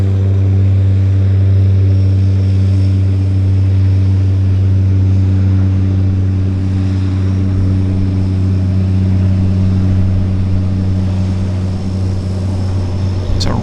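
A floatplane taking off from Vancouver Harbour, its propeller engine droning loud and steady throughout with a strong low tonal hum and broad airy roar, holding near-constant power without talk.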